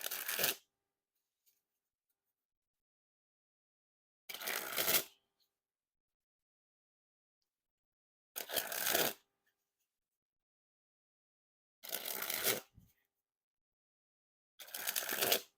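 Eastern Forest playing cards by Art of Play being sprung from one hand to the other, five short crisp fluttering bursts spaced a few seconds apart, close, with silence between.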